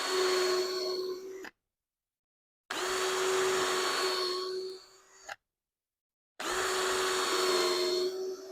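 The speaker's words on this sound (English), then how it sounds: "I'll go ahead and drill these while I'm here." A power drill bores holes in a mobile base for a chest freezer, whining in three loud, close bursts of about one and a half to two and a half seconds each, separated by silent pauses.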